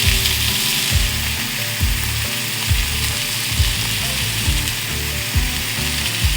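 Game meat kebabs sizzle loudly on a flat pan over a gas stove, a dense continuous frying hiss close up with faint rhythmic clicks and knocks underneath, and no voices.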